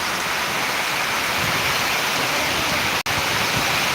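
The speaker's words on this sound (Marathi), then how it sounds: "बुलढाणा मेकर मुसळधार पाऊस" Heavy monsoon rain pours steadily in Mehkar, Buldhana, a dense, continuous hiss close by with no voices and one momentary cut in the sound.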